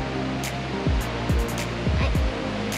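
A creek flows steadily near a secluded campsite by a lake, its continuous rushing water close and broadband, with a few brief low thumps in the middle.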